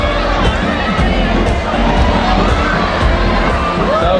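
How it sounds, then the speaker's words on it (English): A pageant audience at a coronation night cheers and shouts wildly, a dense, steady roar of crowd noise with children's voices rising through it, filling the whole span without a break. "seeing the response, the reaction of our crowd."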